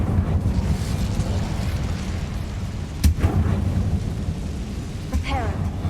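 Incendio fire spell cast in the Hogwarts Legacy video game, a dense rumbling roar with two sharp bursts partway through, steady and loud throughout.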